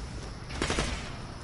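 Gunfire in a PS4 shooting game: a burst of rapid shots rings out briefly against a steady noisy background, moderately loud and fairly close.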